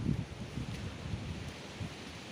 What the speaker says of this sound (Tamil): காற்று பயங்கரமாக அடிக்கி